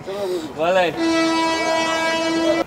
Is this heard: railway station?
yes